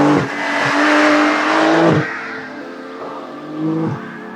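A 2023 Porsche 911 Carrera, GTS or S, accelerating hard: a loud, rising engine note climbs through the gears, with brief dips at shifts and a steady roar continuing alone without talk.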